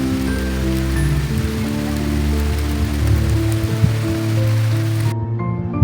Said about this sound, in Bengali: দেখো, হঠাৎ আবার বৃষ্টিও চলে এলো।